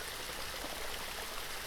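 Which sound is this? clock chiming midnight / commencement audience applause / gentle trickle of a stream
gentle trickle of a stream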